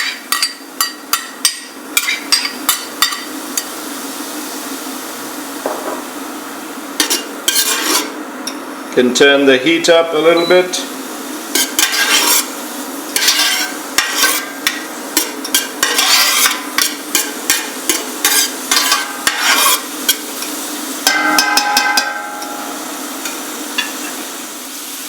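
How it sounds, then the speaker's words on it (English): Chopped onions sizzle in hot oil in a pan while chicken mulligatawny soup is cooked, a steady close hiss and crackle with scattered clicks of stirring; a person speaks briefly. "you can start to hear the onions sizzle"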